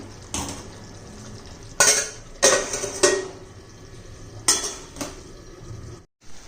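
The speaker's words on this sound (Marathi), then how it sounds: "एकदा हलवून घेऊया व्यवस्थित हळूवर" A spoon stirs stuffed ridge gourd in a pan, scraping and clinking against the metal in a handful of sharp, separate knocks over a soft sizzle, with no talking.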